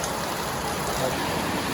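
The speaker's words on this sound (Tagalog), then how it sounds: "Ang lakas ng ulan mga mamsi" Heavy rainy-season rain pours in a dense, steady hiss of broadband noise that stays constant throughout without any break.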